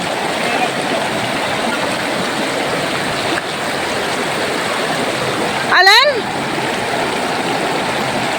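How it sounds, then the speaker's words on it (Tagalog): Steady rushing water of the Daraitan River in Tanay, Rizal, Philippines fills the clip, a constant broad roar, with a brief voice and splash near the end. "At rumaraga sa ang tubig."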